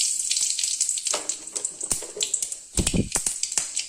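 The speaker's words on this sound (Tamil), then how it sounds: "எண்ணெய் காஞ்சிருச்சு, கடுகு போட்டுக்கலாம்." Mustard seeds crackle and spit in hot oil on the stove for a lentil curry tempering, with sharp irregular pops over a continuous bright sizzle and one louder burst of spattering near the end.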